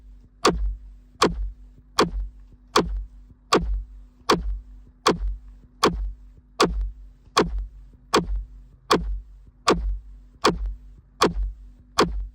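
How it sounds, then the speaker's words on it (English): A drum kit plays a steady, evenly spaced groove right on the beat, sharp hits repeating about every 0.8 seconds, close and clear with no talking. "Hitting in the center of the beat sounds like this."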